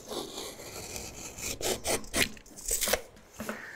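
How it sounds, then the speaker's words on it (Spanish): A hand saw cuts through a dense sonopan fibreboard sheet for ceiling soundproofing, with rough rasping strokes in an uneven rhythm, close and fairly loud, with no talk. "quiero cortar un pedazo de sonopan."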